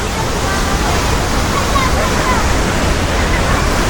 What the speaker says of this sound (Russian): В общем, вот такой здесь водопад